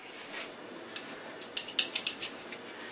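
A knife works through a cured ham, making faint scraping and a short series of crisp clicking cuts near the end against a quiet background.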